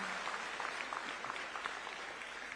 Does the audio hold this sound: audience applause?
yes